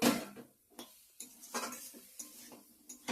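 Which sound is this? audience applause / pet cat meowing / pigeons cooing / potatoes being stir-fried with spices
potatoes being stir-fried with spices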